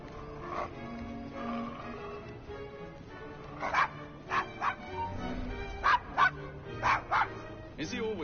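Desmond the dog barks in a string of sharp, close yaps and bow-wows, some with a whimpering edge, over a low murmur of background sound with voices faintly present.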